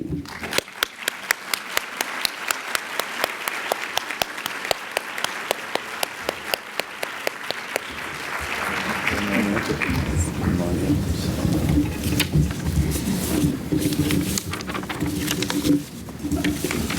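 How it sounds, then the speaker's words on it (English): Audience at a career development association general session applauds an award recipient with dense sustained clapping, then the clapping thins into a fuller crowd noise. "Please join me in another round of applause for his"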